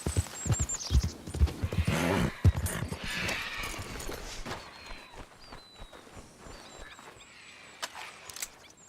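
A horse's hooves clip-clop in Red Dead Redemption 2: a steady run of hoof beats, loud at first and then a little softer, over the sound of the outdoors, with a brief high whistle.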